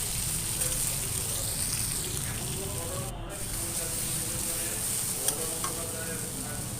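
Ridge gourd fries in a pan with a steady, close sizzle, broken by brief stirring scrapes and one sharp clink.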